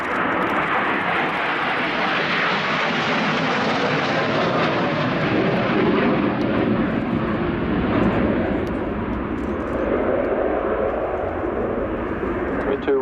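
A Harrier II EAV-8B+ jump jet roars loudly overhead at an air show, its engine noise swelling and shifting in pitch as it sweeps past in a max-performance turn at about 400 knots, while a voice commentates over the din.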